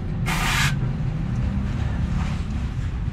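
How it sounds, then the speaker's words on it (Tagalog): Carb cleaner sprayed from an aerosol can onto Hyundai Grand Starex valve body parts, a single close hissing burst of about half a second over a steady low workshop rumble. "Carb cleaner. Yan, spray mo."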